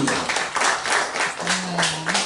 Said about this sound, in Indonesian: tepuk tangan untuk Weda Martani.